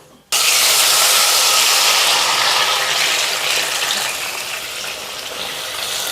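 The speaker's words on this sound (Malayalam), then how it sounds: "നല്ലെണ്ണ ഒന്ന് ചൂടാകുമ്പോഴേക്കും നമുക്ക് നമ്മുടെ തക്കാളി ഇതിലേക്ക് ഇട്ട് കൊടുക്കാം" Tomatoes hit hot sesame oil in a pan with a sudden loud, hissing sizzle that starts abruptly and stays strong, easing slightly over several seconds, close up and alone.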